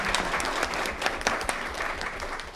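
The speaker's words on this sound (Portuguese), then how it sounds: "Uma salva de palmas para vocês." Applause rises from the audience at a Brazilian state assembly committee session on replacing asbestos, a burst of loud, uneven clapping that thins out and fades toward the end.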